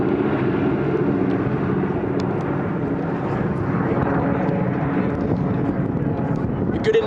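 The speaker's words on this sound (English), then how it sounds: "you can see the trio of aircraft who will be delivering the Red Devils" A trio of C-47 transport aircraft drone overhead at the Duxford airshow in 2014, a steady loud piston-engine rumble with wind buffeting the microphone, while a commentator talks over it.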